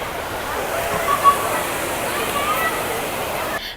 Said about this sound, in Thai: นี่คือบริเวณน้ำตกชั้นที่4ชั้นยางนาค่ะ